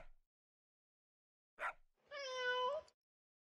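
A cartoonish cat meows once in the video game Spinster: A Cat Lady Game, a clear drawn-out tonal call after a short blip, isolated against silence.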